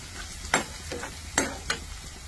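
Capsicum fries in a pan with a steady background sizzle, broken by a few sharp scraping or stirring strokes, close and moderately loud, with no talking.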